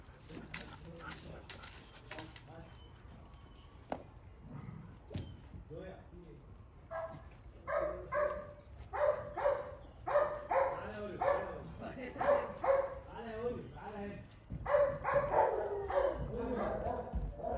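Several dogs bark outdoors, loud and repeated in quick runs, with yips and whimpers, while people shout over them.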